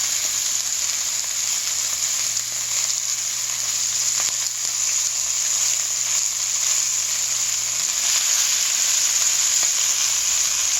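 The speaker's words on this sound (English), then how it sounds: "there's actually a piece of fat right here on the end that you need to char" Steak fat charring in a cast iron pan gives a steady, loud, close sizzle that holds unbroken for the whole stretch, with no talking over it.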